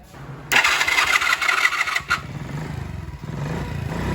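A Honda CG 160 motorcycle engine cranks and fires, revving loudly for a moment before falling back to a slow, uneven idle that sounds close to stalling, recorded up close with no talk.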